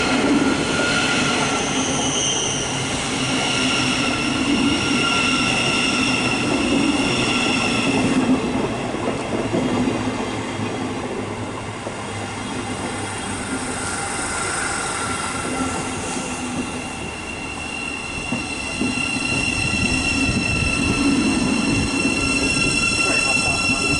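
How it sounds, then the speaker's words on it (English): A Thameslink Class 700 electric train on a Bedford to Brighton service at St Albans City station, its motors whining and wheels rumbling and squealing steadily nearby for over twenty seconds. "now it's a 1057 Thameslink service from Bedford to Brighton"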